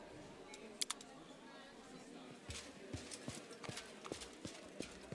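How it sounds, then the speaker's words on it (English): Horse hooves clip-clop in the video game Pathfinder: Wrath of the Righteous: a couple of sharp early clicks, then a steady run of hoof steps from midway over a low ambient bed. "The horse is here."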